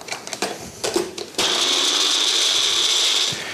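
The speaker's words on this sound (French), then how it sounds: "Et maintenant, on va mixer." A kitchen blender mixes pickle and basil cream, kicking in after a few handling clicks and taps and then running as a steady, loud whirring drone for about two seconds.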